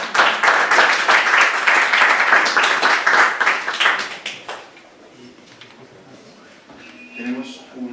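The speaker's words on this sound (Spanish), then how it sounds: "damos un aplauso" An audience at a documentary screening and discussion in Barcelona bursts into dense, close applause that lasts about four seconds, then fades to quiet room noise and a person speaking.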